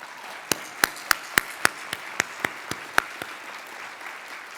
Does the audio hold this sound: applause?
yes